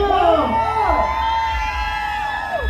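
A crowd screams and whoops together, shrill rising and falling voices filling the space, loud and close.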